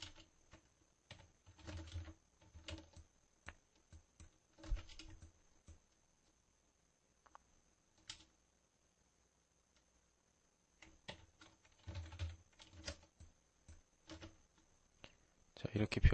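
Keys on a computer keyboard are pressed during Photoshop work: light, scattered clicks that come in short bursts with gaps between them, alongside a person talking.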